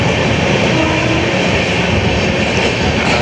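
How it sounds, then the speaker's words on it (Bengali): A train rolls through New Farakka Junction without stopping, a loud, steady roar of wheels and carriages filling the whole stretch with dense rumbling noise. "ট্রেন এখন আমাদের স্কিপ করছে নিউ ফারাক্কা জংশন।"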